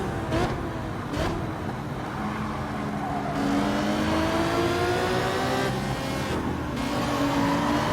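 A car in Gran Turismo 7 drives with a loud, steady engine and exhaust note, revving and shifting pitch as it accelerates, with brief gear-change dips and no talk over it.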